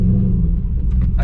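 A cammed Cadillac CTS-V V8 idles with a loud, deep, steady rumble close by, its lopey low-end throb continuing without a break for about a second.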